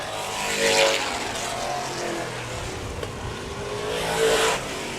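Race cars lap an oval track at Showtime Speedway, engines swelling loud as they pass and fading between, a continuous distant roar of several cars circling.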